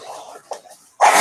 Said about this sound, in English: Blow my nose real fast